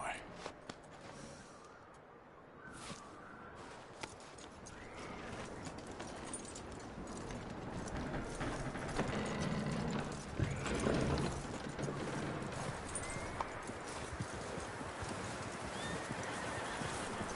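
Horse hooves clip-clopping and a whinny in Red Dead Redemption 2 gameplay, with steady hoofbeats under outdoor ambience, along with mechanical clicks and game sounds.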